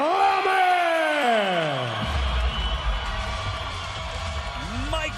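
A fight crowd roars and cheers after a unanimous decision win in a ringside event, a sustained loud wall of voices while an announcer speaks over it with a rising, drawn-out call.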